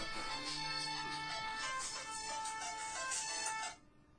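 A phone ringtone plays for several seconds as a melodic electronic tune, steady and moderately loud, and then cuts off abruptly.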